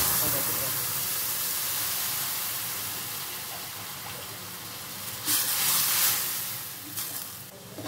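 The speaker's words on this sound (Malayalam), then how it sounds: "ഇനി കടുക് പൊട്ടിക്കാം." Mustard seeds and dried red chillies sizzle in hot oil in a pan while tempering a chammanthi chutney for idli and dosa, a steady close hiss with louder crackling bursts toward the end.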